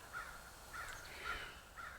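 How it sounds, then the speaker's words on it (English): Crows caw in the distance, four faint, evenly spaced calls over a quiet background. "there's the crows"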